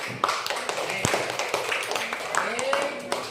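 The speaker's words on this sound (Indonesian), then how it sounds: "tepuk tangan untuk yang terakhir" Students in a classroom clap in a loose, scattered pattern of sharp hand claps, uneven in timing and moderately near, with voices talking over them.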